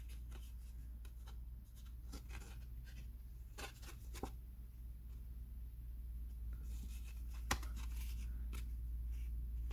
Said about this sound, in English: I snip it off